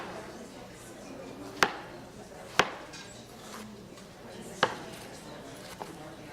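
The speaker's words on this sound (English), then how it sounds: "if you got a big Roma tomato, we're going to cut it into 8ths." A knife strikes a cutting board in three crisp, distinct chops and one faint final tap while cutting a big Roma tomato into eighths, spaced unevenly at close range over a low room background.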